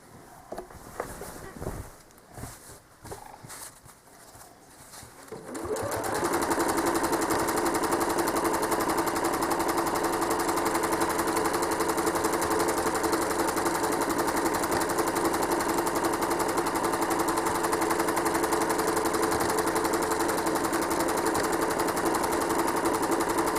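A home sewing machine quilting fabric: a few seconds of uneven clattering starts, then a loud, steady mechanical whirring hum that runs on without pause.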